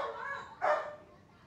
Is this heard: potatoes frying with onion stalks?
no